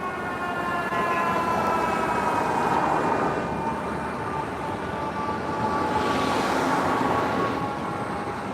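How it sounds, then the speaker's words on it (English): Fire truck arriving at an overturned-vehicle scene on the FDR with its siren wailing, steady tones swelling louder toward the end over a constant road and engine rumble, no talk. "Fire truck's finally arriving here."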